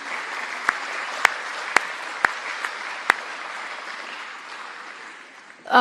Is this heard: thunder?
no